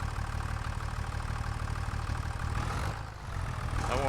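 Tractor engine in Farming Simulator 25 idles with a steady low rumble throughout, dipping briefly near the end before returning at the same level, with no talk over it.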